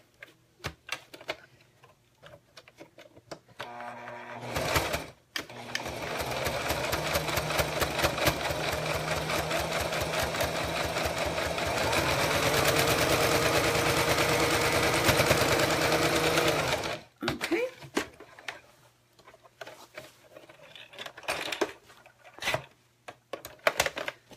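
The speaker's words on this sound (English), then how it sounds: "now I'm gonna just top stitch this other side" Sewing machine top stitching along a zipper, a long steady run of rapid mechanical needle ticking lasting about twelve seconds, with scattered handling noises and short bursts before and after, close and without talk.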